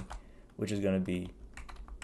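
Computer keyboard typing, quick light key clicks scattered through the clip under a voice talking in the middle, fairly close and soft.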